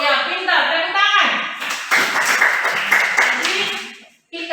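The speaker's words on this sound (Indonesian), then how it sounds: "tepuk tangan" Children in a classroom break into a couple of seconds of lively group clapping, close and fairly loud, with an adult voice speaking just before and briefly after.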